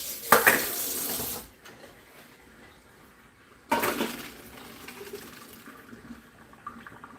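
Cooked noodles drained into a kitchen sink: a loud burst of pouring water for about a second and a half, a quiet pause, then a second splashing pour that trails into faint dripping and clatter.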